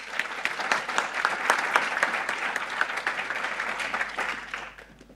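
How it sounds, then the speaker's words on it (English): A conference audience gives steady applause for an introduced speaker, a close, moderately loud patter of many hands that thins and fades over the last second. "So I ask you to give a great applause to Siân Bayne"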